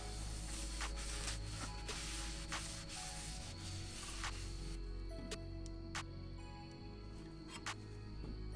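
A cloth rubs the protective oil off a new brake rotor for a 1979 Lincoln, making a steady close-up hiss of scrubbing with a few faint clicks and taps toward the end.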